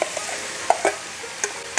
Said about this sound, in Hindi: देखिए मसाला भून चुका है, इसमें कटहल जो मैश किए थे उसको डालेंगे